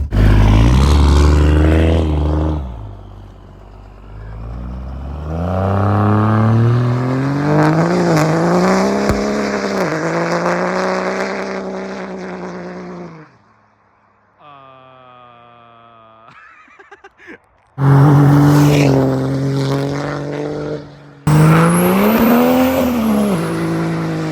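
A 4th-gen Cummins diesel pickup does burnouts at the rev limiter, a loud, close engine roar held at the limiter with squealing tires, breaking off briefly to a thinner whine before the roar returns in bursts.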